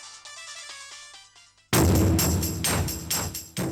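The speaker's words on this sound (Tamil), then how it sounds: "அத்த அவருக்கு ஃபோன் வருது கொடுத்துட்டு வந்துடுறேன்" Phone ringtone for an incoming call in a Tamil TV serial scene, a bright repeating electronic melody of short tones that cuts off abruptly into a louder burst of background music.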